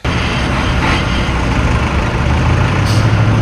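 Forest firefighting module vehicle loaded with crew and equipment driving to a fire, its steady heavy engine drone continuous and loud throughout, with no speech.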